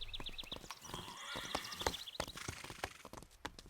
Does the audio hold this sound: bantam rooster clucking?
no